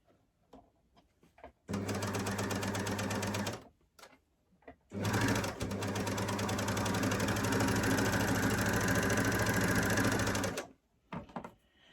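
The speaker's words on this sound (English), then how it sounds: "Always try and trim when you're overlocking" An overlocker trims and stitches a T-shirt shoulder seam in two steady, loud runs, a short burst and then a longer stretch of whirring, with quiet pauses at either end.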